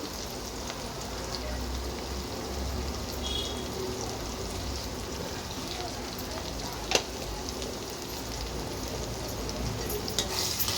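Egg bhurji cooks in a pan with chili powder and salt, giving a constant, even frying hiss like light rain, with occasional faint stirring taps and one sharp knock partway through.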